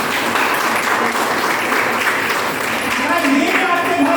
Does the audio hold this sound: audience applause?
yes